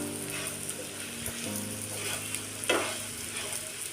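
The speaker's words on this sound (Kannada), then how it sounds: "ಎಣ್ಣೆ ಹಾಕಿ ಚೆಂದಾಗಿ ಇದನ್ನು ಕೆಂಪಾಗಂಗೆ ಹುರ್ಕೋಬೇಕ್ರಿ" Dry coconut pieces roast in oil in a pan for a North Karnataka masala, giving a steady soft sizzle and crackle throughout, close and even, with a brief stir or clatter near the end and no talk.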